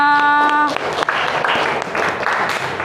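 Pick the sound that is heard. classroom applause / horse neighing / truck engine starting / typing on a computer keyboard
classroom applause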